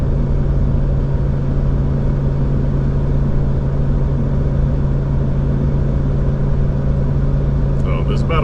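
Pickup truck climbing a long hill in second gear at 5,000 RPM and 55 mph, a loud steady engine drone with deep low hum and rumbling road noise filling the cabin, holding constant throughout.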